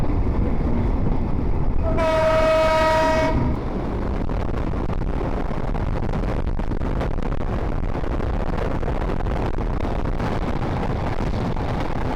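A moving train rumbles steadily and loudly throughout as it passes the old Kushtia railway station in Bangladesh, with a long horn blast sounding early on before the rolling noise continues.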